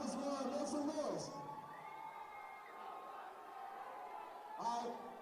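A crowd at a college basketball game between Langston and Texas Wesleyan cheers and shouts for a fraternity, with whoops and yells that swell and fade, then a brief announcer voice over the noise.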